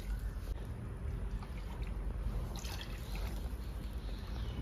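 Water poured into a pan of mustard-based pabda fish curry, a dense continuous hiss and bubbling of liquid, close and steady throughout.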